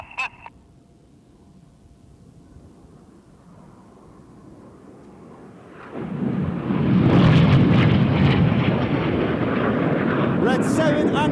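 Red Arrows BAE Hawk jets fly an airshow display over London, Ontario, a low roar building from faint to a loud, sustained, broad rumble about halfway through, with commentary faintly underneath.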